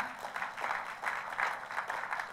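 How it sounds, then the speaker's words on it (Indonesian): Congregation applause during a church sermon, faint rhythmic clapping pulsing steadily, distant and thin, with no voice over it. "Oh boleh tepuk tangannya yang paling meriah."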